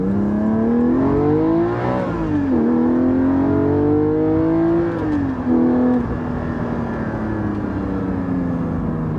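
Porsche GT4 engine and exhaust droning from inside while driving, a strong tonal hum that rises with revs, dips at shifts near two and five seconds, then settles into a steady cruise.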